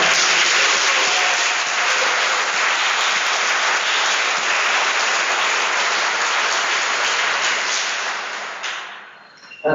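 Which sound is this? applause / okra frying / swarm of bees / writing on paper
applause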